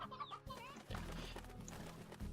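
Hens cluck from the video game Slime Rancher, a few short clucking calls layered over steady in-game music and ambient tones, with no talk.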